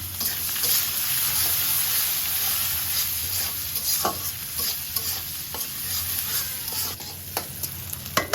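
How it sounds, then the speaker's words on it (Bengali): A spice paste fries in oil in a pan with a steady close sizzle, broken by frequent sharp scrapes and clicks of stirring, no voices present. "পেস্টটা ভাজা ভাজা হয়ে গেছে"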